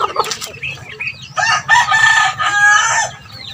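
A rooster crows loudly and close, a long drawn-out call after a few shorter squawks and clucks.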